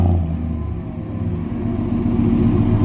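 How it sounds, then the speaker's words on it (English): A 2014 Chevrolet Silverado's engine idles and revs up steadily with a deep rumble, low throaty exhaust tones from 45-degree tips growing louder toward the end. "We'll get him to start it up, see what kind of exhaust he's got."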